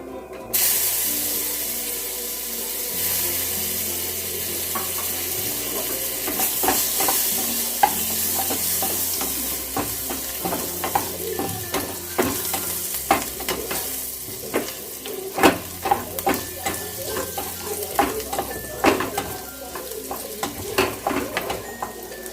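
Chopped garlic frying in a pan with cumin and chilli, a steady sizzle under repeated scraping and stirring clatters of a spatula against the pan, close and alone without talk.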